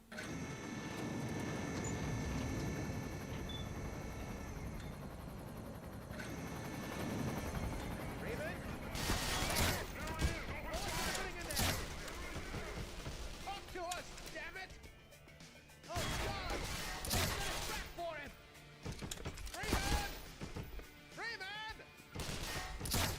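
Bursts of gunfire from the video game Black Mesa crackle intermittently over a steady mechanical drone, with shots growing sharper and denser in the second half.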